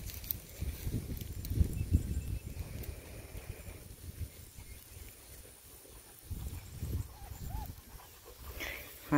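Puppies pant and whimper softly close by, with shuffling and scrabbling movement sounds in a farm setting among sheep and cattle, while a person speaks quietly now and then.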